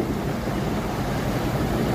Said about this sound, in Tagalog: Ang lalaki ng alon, sarap mag-surfing.